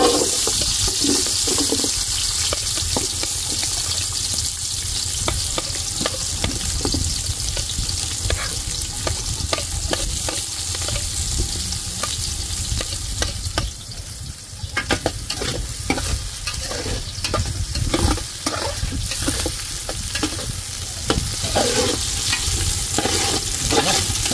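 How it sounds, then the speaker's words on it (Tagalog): Onions sauté in a hot pan with a steady, close sizzle that keeps going throughout, broken by stirring and scraping sounds. Some watery, hissing bursts come and go along the way. "Isa natin sa paggisa. Igisahin natin. Sibuyas mga karabas."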